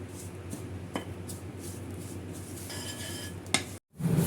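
Curry leaves roast in a hot pan with a steady crackle and sizzle, broken by a few scraping stirs and a sharp clink, close and fairly loud before a brief drop to silence.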